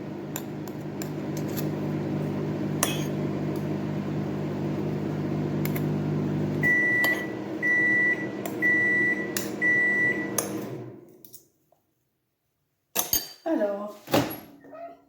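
Microwave oven humming steadily while heating floating islands, then a run of four short beeps before the hum stops, followed by silence and clattering dish sounds.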